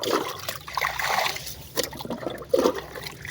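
Water bailed out of a small pool, with splashing, trickling and sloshing scoops in an uneven rhythm close by, and no speech.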